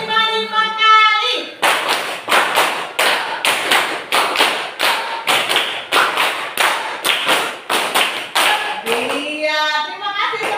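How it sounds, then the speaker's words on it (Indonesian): A class of children claps their hands together in a steady rhythmic series of loud, sharp claps, bracketed by a teacher's voice at the start and end. "terima kasih tepuk tangan"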